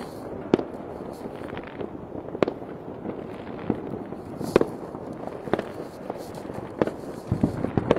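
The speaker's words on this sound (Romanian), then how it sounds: "Iată, o petardă sărit în curtea școlii." New Year's Eve firecrackers and fireworks bursting around a city schoolyard, sharp bangs at irregular intervals over a dense, continuous crackle, some near and loud, others more distant.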